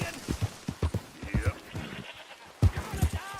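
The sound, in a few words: goat bleating in the video game Red Dead Redemption 2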